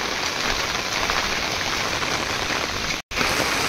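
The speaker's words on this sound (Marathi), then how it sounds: "खूप जोरदार पाऊस पडतोय मित्रांनो" Heavy rain pours steadily in a jungle, a dense, loud, unbroken hiss of falling water with a brief cut near the end.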